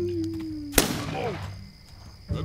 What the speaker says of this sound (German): jetzt knallen sie sich gegenseitig ab